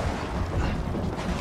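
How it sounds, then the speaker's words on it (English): Thunder in The Last of Us, a continuous deep rolling rumble that fills the whole short stretch at steady loudness, broad and booming with no talk over it. "And it's all spoiled by thunder."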